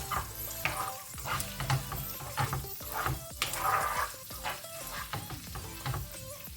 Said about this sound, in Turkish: Tereyağıyla da biraz kavuralım